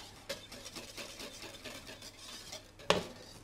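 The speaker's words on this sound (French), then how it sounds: "Je mélange bien." A custard mixture of milk, egg yolks and sugar being whisked in a bowl gives a steady, close scraping of whisk on the sides, with a soft knock near the start and a sharper clink near the end.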